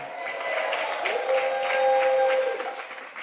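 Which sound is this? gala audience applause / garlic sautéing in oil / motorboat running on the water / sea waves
gala audience applause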